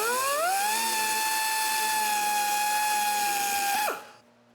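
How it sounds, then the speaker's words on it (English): A die grinder fitted with a carbide bit spins up to a high, steady whine while working metal on an S10 build, holding close and loud for several seconds before cutting off and winding down. "my weapon of choice for this just gonna be the old die grinder, and I've just got a carbide, you know, die grind bit on here"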